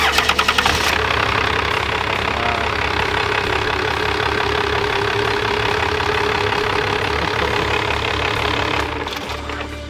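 Diesel engine in a rat rod at a car show cranks over and settles into a loud, steady, knocking idle close by that runs throughout before easing slightly at the end.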